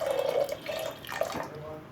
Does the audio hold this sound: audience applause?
no